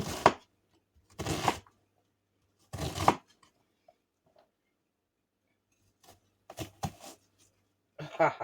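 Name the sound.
chopping onions with a knife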